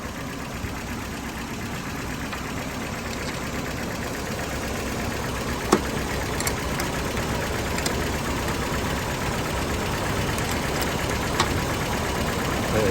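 A car engine idles steadily with its alternator wire disconnected, a low, even rumble and faint ticking, running on without change and no one speaking.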